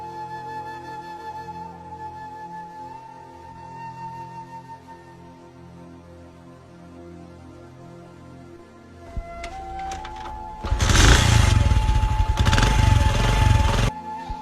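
A small engine idles with a steady hum, then catches and roars into loud, rough running for a few seconds before cutting off.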